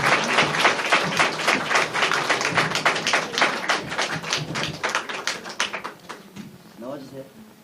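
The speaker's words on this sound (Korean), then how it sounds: "박수해 주세요" A church congregation at a family puppet-show service gives a round of applause, a dense, close burst of clapping that gradually thins out and fades near the end.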